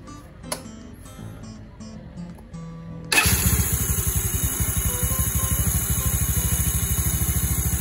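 A Yamaha Mio Nouvo scooter engine with a noisy one-way starter clutch cranks and catches, settling into a loud, steady idle with a fast mechanical rattle. Before it starts there is quieter clicking and clunking.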